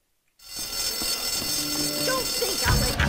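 A fire alarm in the video game Bully kicks in after a brief silence and rings as a sustained, buzzing electronic tone, with some other game sounds and possible voices underneath.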